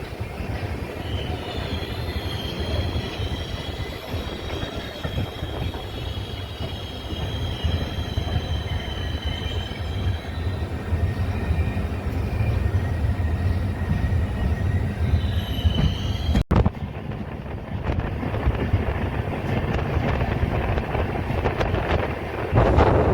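A train on the Koraput–Araku–Visakhapatnam line rolling along near the Odisha–Andhra border, with loud continuous rumbling, wheel squeal and wind buffeting on the microphone throughout, and no voices.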